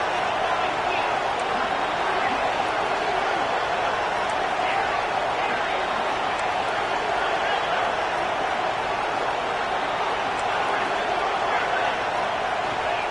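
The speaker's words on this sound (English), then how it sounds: "here comes the crowd noise." A stadium crowd roars at a college football playoff game between East Carolina and Penn State during a two-point conversion try, a dense, steady wash of distant cheering that fills the whole stretch evenly.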